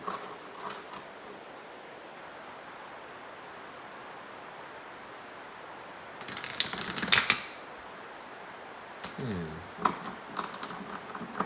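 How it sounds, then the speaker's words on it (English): Tarot cards are shuffled in two short, crisp riffling bursts that stand out against a quiet background hiss, with the rest of the stretch nearly still. "Feels kind of slow and syrupy as I'm shuffling the cards."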